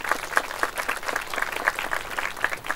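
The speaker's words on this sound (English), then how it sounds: "Let's give her a round of applause." Audience applause at a plaque dedication ceremony at a science focus school, steady claps with some sharp individual hits standing out, moderately loud throughout with no talking.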